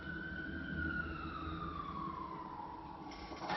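An emergency siren wails steadily, its tone sliding slowly downward over a constant background rumble, moderately distant and continuous with no talk.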